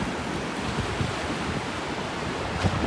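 Surf washing in on an incoming tide along the northeast Florida coast, a steady broadband roar of breaking waves with wind noise, continuous and fairly even throughout.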